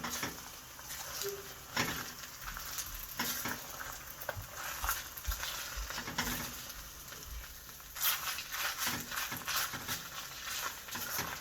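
Faint, steady pattering sizzle of seaweed and a small onion being stir-fried in a pot for seaweed soup, with scattered clicks and scrapes of stirring throughout.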